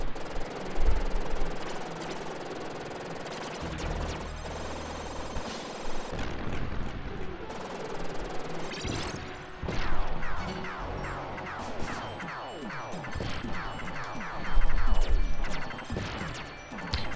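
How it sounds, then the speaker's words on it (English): Repeated booming blasts and crashing debris sounds in Contra III: The Alien Wars pile up over a dense, noisy game soundtrack, with bursts recurring every second or two. "Watch these explosions as I jump up."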